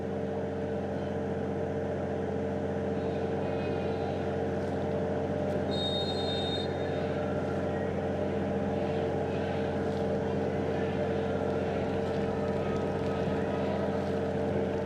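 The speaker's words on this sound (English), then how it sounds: "You can almost hear what sounds like the pumps that were being used to drain this field prior to get this game underway." Pumps draining a water-logged football field before a USMNT vs Trinidad and Tobago match: a steady, continuous low mechanical drone with tonal hum persists throughout, loud and unbroken, with faint crowd and stadium ambience beneath.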